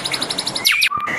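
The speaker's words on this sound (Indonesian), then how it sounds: "Ini burung murai bagaimana" A white-rumped shama (murai batu) songbird in a bird shop sings a rapid run of bright repeated chirps, then sweeping whistled notes, close and loud with no talk.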